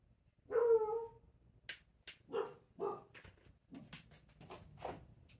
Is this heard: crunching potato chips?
no